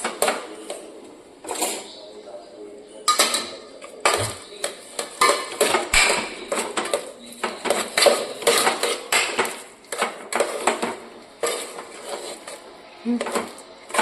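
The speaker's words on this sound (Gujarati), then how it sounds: "પછી બધું કરવાનું મિક્સ અને મિક્સ" Spoon stirring masala in a bowl while making a tomato-ketchup-flavoured filling, giving repeated clinks and scrapes in quick irregular bursts that run close and fairly loud through the whole clip.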